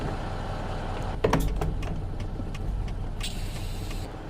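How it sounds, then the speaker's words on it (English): An idling truck engine in American Truck Simulator keeps a low, steady rumble, with a short air hiss and a few clicks over it. "let that engine warm up."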